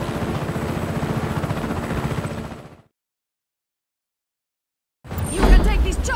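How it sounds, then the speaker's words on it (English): Helicopter in the Just Cause 3 video game, a steady loud rotor drone mixed with game sound for a few seconds, then a gap of silence before the engine noise returns. "You can take this chopper, Fratre."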